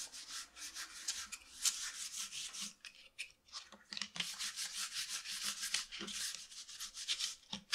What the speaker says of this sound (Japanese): 昆布を酢か日本酒で締め出したペーパーで拭いていきます